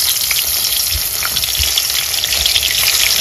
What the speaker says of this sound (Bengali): এবার এই মাছগুলো সব ভেজে নি